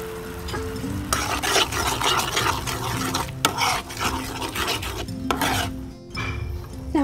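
Coconut milk, lightly salted, churns at a boil in a pot, a dense, continuous bubbling hiss with occasional stirring scrapes, close and fairly loud, without speech.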